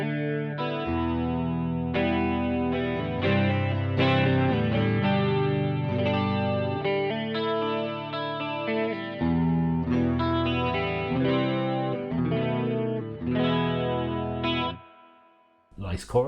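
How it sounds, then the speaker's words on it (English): Electric guitar played through a Keeley Supermod Workstation pedal set to chorus, with sustained, shimmering chords and melodic lines ringing steadily and loudly for about fifteen seconds before cutting off. "Nice chorus."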